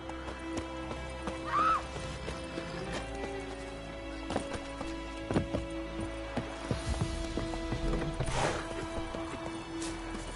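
Roach the horse in a video game whinnies sharply once, then gallops on with steady clip-clopping hoofbeats and a few heavy thuds and clashes, moderately close, with no talking.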